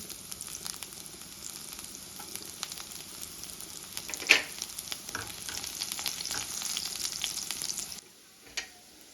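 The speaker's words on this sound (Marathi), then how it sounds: "मोहरी छान तडतडू द्यायची आहे गॅसचा फ्लेम मिडियमच ठेवलाय लगेच लसण आपण बारीक कापलेला आहे तो टाकून घेऊ" Mustard seeds and finely chopped garlic frying in hot oil over a medium gas flame, a steady close crackling sizzle with a few sharper pops, dropping away briefly near the end.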